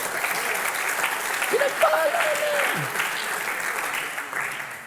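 Church congregation clapping during a Filipino worship service, a steady, moderately loud wash of many hands, with a voice speaking briefly over it.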